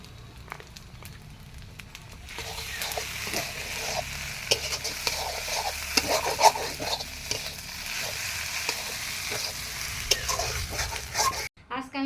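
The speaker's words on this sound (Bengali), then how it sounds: "আজকে আমি ভাজি করছি জিয়াল মাছের ডিম, এই যে আলু দিয়ে" Fish roe and potatoes fry in a pan with ginger and garlic paste, giving a continuous close sizzle dotted with crackles and stirring clicks that cuts off abruptly near the end.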